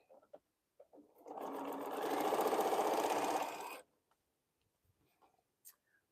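A sewing machine stitches jelly roll fabric strips in one steady run of about three seconds, a rapid mechanical whir that rises and holds, bracketed by quiet handling clicks and soft taps.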